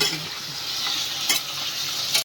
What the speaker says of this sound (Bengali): চিকেনগুলো একটু ভাজা ভাজা হবে মানে হালকা গায়ের কালারটা একটু চেঞ্জ হবে